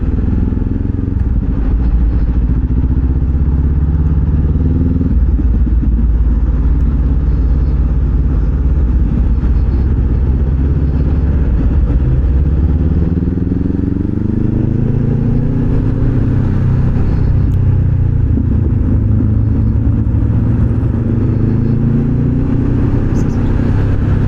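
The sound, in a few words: road traffic with motorcycles and cars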